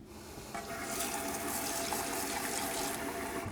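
Tap water runs steadily into a pot of sushi rice set to soak, a close, even gushing hiss that starts softly and swells to a full, constant flow for several seconds without talk.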